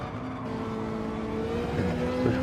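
Race car engine at full throttle in a racing video game, a steady high-revving whine that climbs slightly in pitch, heard alone, close and continuous.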